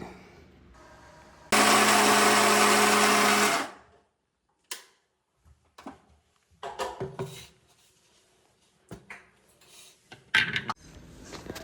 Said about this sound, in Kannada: ಹಾಕೊಂಡು ಮಿಕ್ಸಿಗೆ ಹಾಕೊಂಡು ರುಬ್ಕೊಳ್ಳಿ